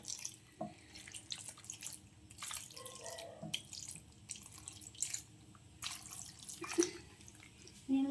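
Quiet, intermittent splashes of water being poured in short bursts into a broad bean curry gravy, with faint drips and kitchen clatter between them.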